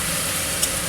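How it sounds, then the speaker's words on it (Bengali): Marinated chicken fries and is stirred in a wok, giving a steady, close hissing sizzle throughout. "কড়াইতে নাড়তে থাকব"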